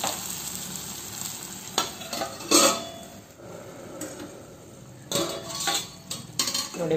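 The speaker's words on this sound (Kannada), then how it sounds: "ಒಗ್ಗರಣೆಗೆ ನಾನು ಎಣ್ಣೆ ಸಾಸಿವೆ ಕರಿಬೇವು ಹಾಗೂ ಒಣಮೆಣಸನ್ನು ಹಾಕಿದ್ದೇನೆ" Oil sizzles steadily as mustard seeds, curry leaves and dry chillies hit it for a tempering for bottle gourd palya, a close, continuous frying hiss with a few metal utensil clinks and scrapes.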